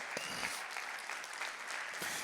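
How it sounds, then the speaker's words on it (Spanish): A church congregation breaks into loud, dense applause, steady rapid clapping filling the room throughout. "Denle un aplauso al Señor bien fuerte."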